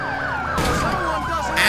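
Ambulance siren in the LCPDFR police mod game, a loud wailing sweep that swings up and down repeatedly alongside steadier tones, close by with traffic noise beneath.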